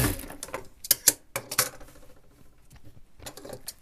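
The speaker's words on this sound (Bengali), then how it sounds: "এইভাবে সেলাই দিয়ে নেবেন।" Sewing machine stitching a salwar, short bursts of rapid mechanical clatter separated by pauses, with quieter ticking in between as the fabric is repositioned.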